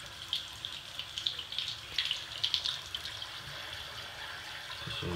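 Water runs from a tap in a home, with splashy uneven bursts over a steady hiss at moderate volume, and no one speaks.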